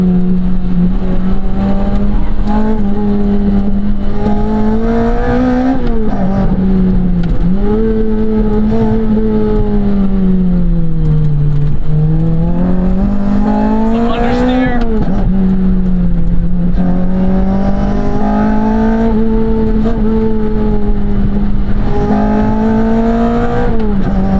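A mid-engine sports car driven hard around a race track, its engine loud and close throughout, revs rising and falling steadily as it works through corners, with brief dips on lifts and a sharp rev spike partway through.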